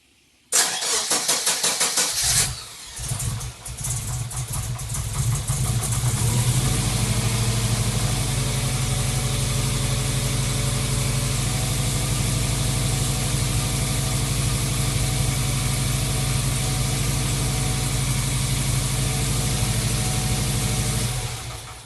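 A Subaru engine running lean on a cold start cranks briefly, struggles to catch, then fires and settles into a loud, steady idle that holds until near the end.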